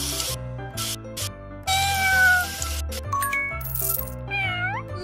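Cartoon cat meows repeatedly in a children's video game, close and loud, mixed with bright chimes, coin-like jingles and rising whistling effects over a light musical backing.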